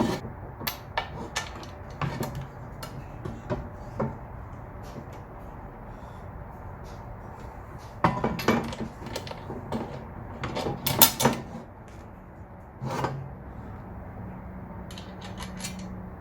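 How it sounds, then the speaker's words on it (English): Bolting a Sparco Evo 2 Plus racing seat into a Nissan 350Z, with scattered metallic clicks, taps and clanks of tools and hardware coming in short clusters between quieter stretches, close by. "I'm gonna go ahead and start putting this on, trying to center it best I can, and we're gonna bolt this down as well."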